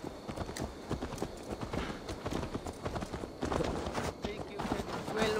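Horse hooves clip-clop in the video game Assassin's Creed Valhalla, a steady run of close, fairly loud hoof beats mixed with game sounds while a voice talks over them.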